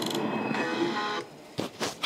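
A riser sound effect run through a low-pass filter so it sounds muffled and underwater, a dull swelling whoosh for about a second followed by a couple of soft muffled thumps.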